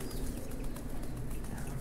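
A highflyer-bloodline pigeon flaps its wings close by, giving a dense, steady fluttering with rapid rhythmic beats throughout, with no talking over it.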